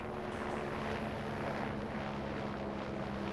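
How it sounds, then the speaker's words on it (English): A helicopter in Farming Simulator gives a steady, dull rotor and engine roar overhead, constant in level for a few seconds, with no voices. "Where's the helicopter?"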